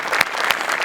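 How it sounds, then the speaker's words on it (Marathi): An audience at a comedy show in Maharashtra breaks into dense, continuous clapping that stays loud and close throughout, with a few sharper claps standing out. "जोरदार टाळ्या झाल्याच पाहिजे"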